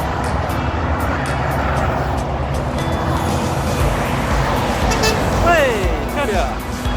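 Scania truck horn sounding in traffic near the end, a short rising and falling blast heard over steady engine rumble and road noise, with voices talking through the scene.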